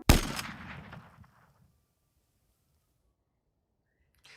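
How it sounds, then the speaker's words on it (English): Gunshot sound effect: one sharp, loud blast at the start that rings out and decays over about a second, followed by near silence. "you hear a gunshot."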